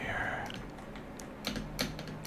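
Steady typing and key clicks on a computer keyboard during a Fortnite Zero Build match, close and continuous with a few sharper clacks and game sounds underneath.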